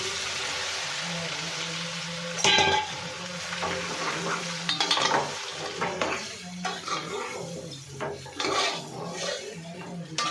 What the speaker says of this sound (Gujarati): હવે આપણે એમાં થોડીક હિંગ ઉમેરી થોડીક હળદર નાખીએ અને આ ઢોકળાનો વઘાર કરી દઈશું આપણે.